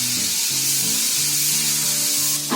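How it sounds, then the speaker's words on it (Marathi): Onion and tomato fry in hot oil for misal, a dense, steady sizzle and crackle close up, continuous throughout with no talking. "आता हे बघा इकडे असा कांदा आणि टोमॅटो आहे ना असा तेलामध्ये भाजून काढायचा."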